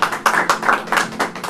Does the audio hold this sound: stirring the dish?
no